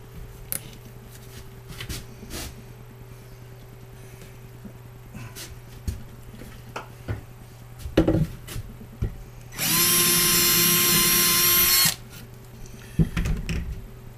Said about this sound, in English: little bit bigger drill bit